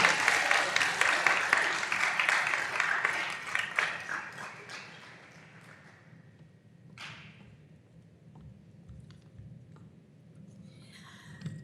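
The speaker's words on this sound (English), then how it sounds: "A round of applause for Kevin Pillsbury" Applause for a staff member at a high school senior day ceremony, dense clapping from a large audience for about four seconds that thins and fades out, followed by quieter room noise with a few scattered claps and faint murmurs.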